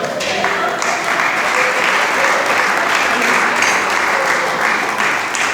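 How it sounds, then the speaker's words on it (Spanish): Church congregation clapping for the Lord during a sermon on true prayer, loud continuous applause filling the room at an even level for the whole stretch, with faint voices mixed in. "Dale palmas al Señor."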